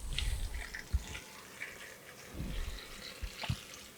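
Salted brine water, a 2% solution of non-iodized salt, is poured over cucumbers to fill a jar for fermented pickles. It comes as soft, faint splashes and trickles in a few short bursts.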